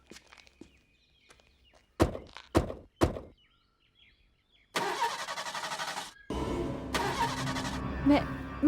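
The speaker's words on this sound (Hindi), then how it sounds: "मैं जानती हूँ ये गाड़ी स्टार्ट नहीं होगी।" Several sharp car-door thunks and footsteps come first, then a car engine cranks twice in long grinding bursts, fairly close and loud, with a faint voice in the background.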